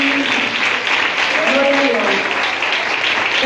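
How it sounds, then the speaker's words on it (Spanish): Applause from the congregation at a graduation ceremony for theology pastors in Nicaragua, a steady dense wash of clapping that lasts throughout, with voices mixed in underneath. "Damos fuertes palmas."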